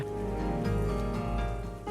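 Steady rain falls in cool weather, a dense, even hiss that runs unbroken for about two seconds with a tonal, music-like layer beneath it.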